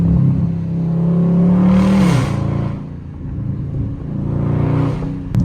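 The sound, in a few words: Dodge Scat Pack car engine revving and exhaust burbles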